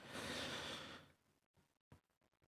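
A single deep breath drawn in before Quran recitation, a soft airy inhale lasting about a second, close and quiet, followed by faint small mouth sounds and near silence.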